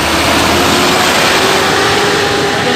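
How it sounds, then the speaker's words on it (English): Busy interstate bus terminal at Sarai Kale Khan, a dense, loud wash of engine drone and idling hum with a steady low tone running continuously, no voices standing out. "standing at the Sarai Kale interstate bus terminal"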